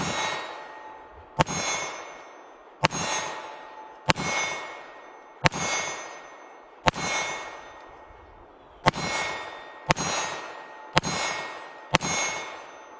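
A S&W Bodyguard 2.0 .380 pistol firing Monarch FMJ rounds, each sharp shot followed by a bright ringing clang from steel targets, ten evenly paced shots over about thirteen seconds with no talk.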